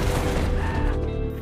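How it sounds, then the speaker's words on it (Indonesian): A loud, booming gunshot from the horror film The Hills Have Eyes 2 (2007), heard close as a single heavy blast with a rumbling, reverberant tail that fades over about a second. "Amber yang masih memiliki satu peluru langsung menembak pala si Hades"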